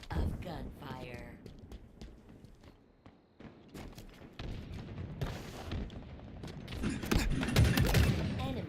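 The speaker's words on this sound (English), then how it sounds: "In a hail of gunfire." Gunfire in the shooter video game Halo Infinite, rapid bursts of shots and impacts building into a dense, loud volley toward the end, mixed with footsteps and a player talking over it.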